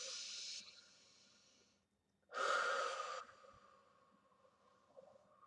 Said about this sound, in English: Gotta take a few deep breaths. Another nice inhale.